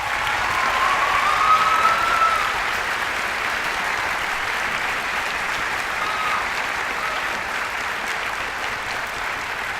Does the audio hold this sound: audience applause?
yes